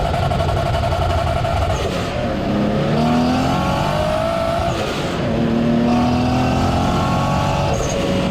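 A restored Nissan Skyline R33 GTS25t with a forged 2.5-litre RB25DET turbo engine and an external wastegate revs hard. A loud, close, continuous engine note rises and falls through several sweeping pulls with no talk.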